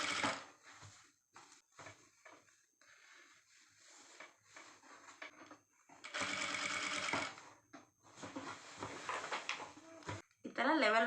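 Sewing machine stitching pleats on a lehenga, running in several short bursts and one longer stretch, mixed with frequent talk in Kannada between runs.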